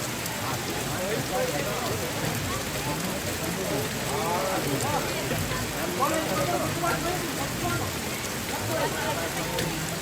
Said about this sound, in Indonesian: Made, hujan ya, hujan terus.